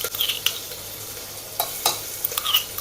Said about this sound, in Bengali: এবার দিয়ে দিচ্ছি রসুন আর কাঁচা লঙ্কা,